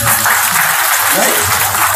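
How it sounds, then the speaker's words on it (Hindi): An audience bursts into applause, a short, loud, dense patter of many hands clapping together without a break. "ताली बजाइए प्लीज"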